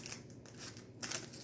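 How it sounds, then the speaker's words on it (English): A few quick, crisp snips of scissors cutting, close and quiet, with short pauses between the cuts. "Need scissors. Careful with your fingers."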